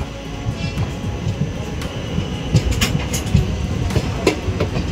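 A passenger train runs steadily on its rails near Dharmavaram station, a continuous loud rumble with repeated wheel clicks heard from on board.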